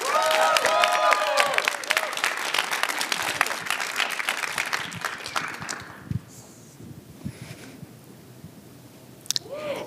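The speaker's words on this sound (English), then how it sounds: "let's give a huge round of applause to Realist" An audience at a startup accelerator demo day claps loudly and continuously for a presenting team, dense applause that fades after about six seconds into a quieter room with a few scattered claps.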